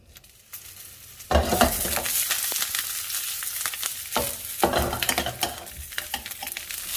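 Sausages frying in cooking oil in a pan for kimchi jjigae burst into a loud, close sizzle after a quiet start, with crackling pops and scraping stirs breaking through the steady hiss.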